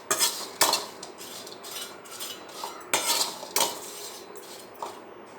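French fries tossed with chili, coriander and garam masala powders, several loud clattering metal-on-pan hits and scrapes in uneven bursts, close by and without speech.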